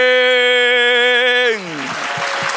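A church congregation's applause rising during a sermon as a loud, drawn-out voice ends, leaving continuous clapping from many hands.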